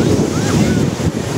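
Ocean surf washing steadily onto a city-centre beach in Maceió, Brazil, a continuous loud, broadband rush of breaking waves mixed with wind buffeting the microphone, without pause across the short stretch.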